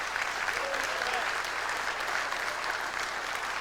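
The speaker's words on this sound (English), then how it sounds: "Let's give Lenny a good round of applause." Dinner guests at a retirement dinner applaud in a steady, moderately distant round of clapping that holds evenly throughout.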